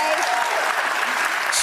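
Audience clapping in a dense, even burst, loud and close, with faint talk mixed in underneath.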